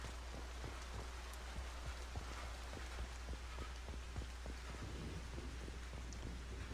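Steady rain pours in Mass Effect 2 on a lush planet with a breathable atmosphere, with soft thunder rumbling and scattered droplet ticks throughout, fairly quiet and continuous.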